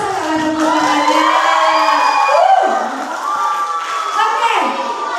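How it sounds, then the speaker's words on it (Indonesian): A school crowd of elementary and junior high students cheers, whoops and shouts loudly for a class character award winner, with a voice rising over the sustained roar. "Semangat dong tepuk tangannya."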